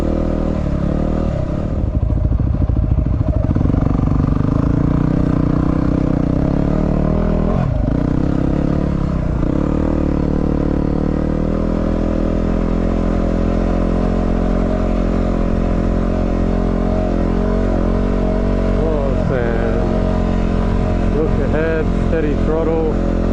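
Dual-sport motorcycles, a WR250R, DR650 and R1100GS, riding through deep soft and rocky sand, a loud, close, continuous engine drone with throttle swells, wind buffeting and clatter, with talk over it.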